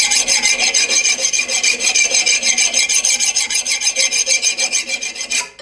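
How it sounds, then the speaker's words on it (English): A metal file rasps rapidly back and forth across a hardened 5160 steel knife blade past the decarb layer, producing a bright, high-pitched scraping in a quick steady rhythm, close up. "What you're looking for when you get done filing through that layer is a nice high-pitched noise like this."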